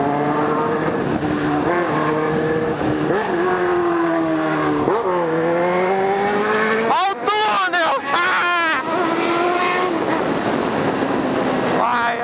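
A motorcycle fitted with an extremely loud aftermarket exhaust roars while riding, picked up close behind the exhaust pipe, its pitch climbing and dropping through gear changes with sharp crackling bursts mid-ride.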